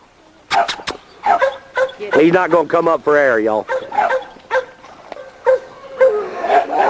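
Pistola, a small hunting dog fixed on a root in a dog yard, barks and yips in quick, loud bursts with whining yelps between, while someone talks close by.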